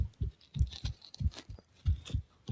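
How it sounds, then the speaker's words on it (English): A heartbeat picked up over a live-streamed call, steady paired lub-dub thumps repeating about five times, low and close, with no talk over it. "Quite literally just heard bro's heartbeat."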